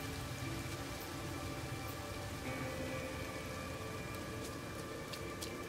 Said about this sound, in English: this is the acid rain planet.